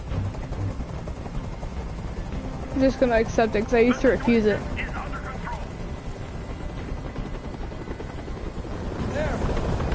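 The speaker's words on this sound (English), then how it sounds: "Tell that helicopter to get out of here!" A helicopter hovers near a rooftop standoff in Detroit: Become Human, its steady rotor rumble running throughout beneath a voice.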